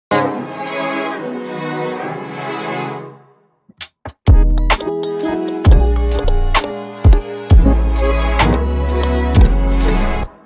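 Layered string samples pitched an octave apart and washed in spacey reverb, sustained and full for a few seconds, then a brief gap before punchy drum hits and bass join in a steady rhythmic groove.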